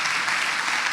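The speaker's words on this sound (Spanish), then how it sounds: "Un aplauso" A conference audience applauds after a keynote talk, a dense, even wash of many hands clapping at once, loud and steady for the whole moment.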